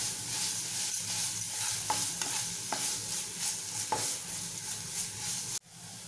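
Malvani masala and turmeric sizzle in a pan while a spoon stirs them, with a constant hissing fry and several distinct scraping knocks against the pan before a brief cut near the end.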